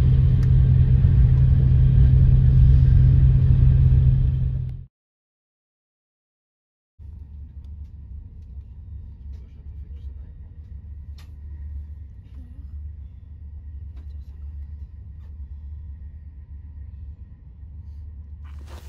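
A high-speed train running at 300 km/h on the way to Paris: a loud, steady low rumble. It cuts to silence for about two seconds, then returns as a quieter continuous interior roar with faint scattered ticks.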